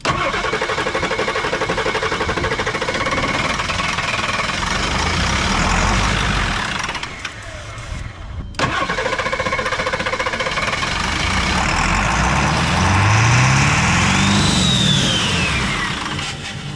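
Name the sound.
Ford Ranchero engine cranking and starting up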